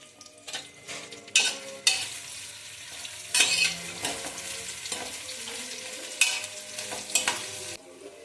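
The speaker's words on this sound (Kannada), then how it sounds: "ಈಗ ಶುಂಠಿ ಬೆಳ್ಳುಳ್ಳಿ ಪೇಸ್ಟ್ ಹಾಕೋತಾ ಇದ್ದೀನಿ ನಾನು ಸ್ವಲ್ಪ." Ginger garlic paste frying with onions in a pan, loud sizzling broken by repeated scraping stirs and clinks of a spoon against the pan, close and without speech.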